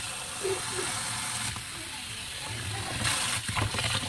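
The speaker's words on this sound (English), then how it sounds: "I don't know how you rinse your parboiled rice, but me, this is how I do it." Parboiled rice rinsed in water for a chicken stew and white rice meal, a steady close rushing and sloshing of water that swells briefly near the end, with no talk over it.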